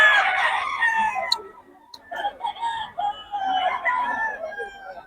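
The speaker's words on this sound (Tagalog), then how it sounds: "Mura mga manok niya ni Boss Ken." Several roosters crow in turn with loud, drawn-out calls, while hens cluck and chatter nearby in a busy Philippine farmyard of black hennie chickens.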